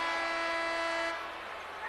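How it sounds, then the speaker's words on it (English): A referee's whistle blows a single shrill, sustained tone for about a second at a 1983 North Carolina versus Wake Forest college basketball game, then fades into the murmur of the arena crowd. "Whistle blows."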